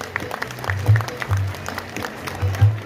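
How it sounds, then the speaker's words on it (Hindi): Applause rises from devotees for the saints at a religious discourse gathering in Ramnagariya, Farrukhabad, moderate and scattered, mixed with low droning tones and background voices. "एक बार जोरदार तालियां सभी संत जनों के लिए।"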